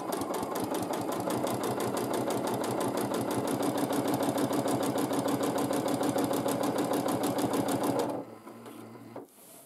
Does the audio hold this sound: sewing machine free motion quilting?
yes